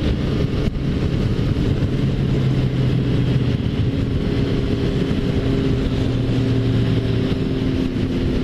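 Continuous loud engine drone with wind rush from a Suzuki Bandit 1250 motorcycle accelerating hard on the Dutra highway, the pitch shifting slightly as it accelerates.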